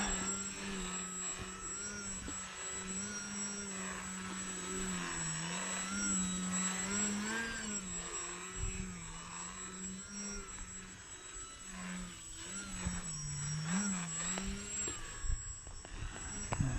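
A small engine of a 32-inch Bayer Model Laser model airplane whines steadily in flight, its pitch rising and falling as it drifts closer and farther away, over faint outdoor background noise.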